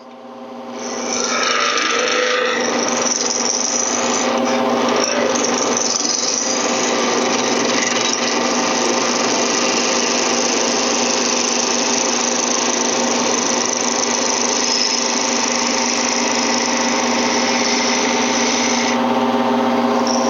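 Steady, continuous rasping hiss of a skew chisel taking a roughing cut on spinning wood on a lathe, shavings peeling off as the blank nears round, loud and close with a low motor hum underneath throughout.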